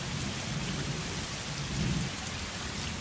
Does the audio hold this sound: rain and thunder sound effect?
yes